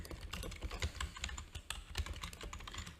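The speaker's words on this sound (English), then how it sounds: "So here I can start typing." Keys clatter on a computer keyboard, typing text in capital letters in a drafting program, close and quick with uneven bursts of clicks and no speech.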